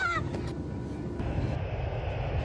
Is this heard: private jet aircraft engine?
yes